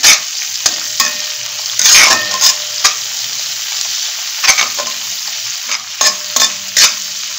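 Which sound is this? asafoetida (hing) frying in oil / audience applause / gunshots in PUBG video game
asafoetida (hing) frying in oil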